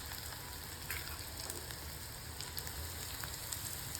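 Okra with crushed peanut powder sautéing in a pan, a soft, even crackling sizzle with faint pops throughout and no one speaking.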